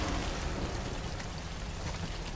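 Steady rain in Death Stranding, a dense even hiss of falling water with no voices, constant and fairly close throughout.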